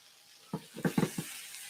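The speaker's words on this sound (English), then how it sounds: "So now we're just kind of sauteing them, getting them ready." Mushrooms and onions sauteing and caramelizing in a pan for spaghetti Napolitan, giving a few brief, soft bursts of sizzling and stirring in an otherwise quiet kitchen.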